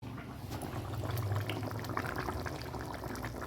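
Fish curry of chitol fish simmering in a pan, a steady bubbling, liquid boil heard up close and continuous throughout, with no voices over it.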